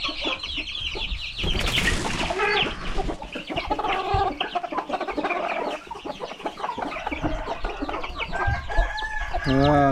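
Hens and chickens on a farm cluck and squawk loudly and continuously, several birds overlapping close by with a rooster-like crow among them.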